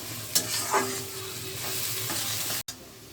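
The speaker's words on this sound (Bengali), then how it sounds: "শুকনো লঙ্কা পেঁয়াজ তেজপাতা দুটো পেঁয়াজটা লাল করে ভেজে নেব" Onions frying in oil with dried red chilli and bay leaves for mutton curry, an even close sizzle broken by a few spatula scrapes and a brief cut near the end.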